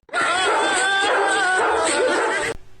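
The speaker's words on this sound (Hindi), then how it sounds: "बस कुत्ते को भौंकता हुआ सुन लेती हूँ।" A dog yips and barks in a loud, continuous run of excited, whiny calls lasting over two seconds, then cuts off abruptly into near silence.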